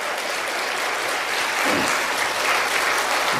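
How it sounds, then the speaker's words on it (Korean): A congregation at an evening revival service of a Korean Full Gospel church in El Paso breaks into loud, sustained applause that fills the hall evenly from start to finish. "큰 박수로 영광 돌립니다."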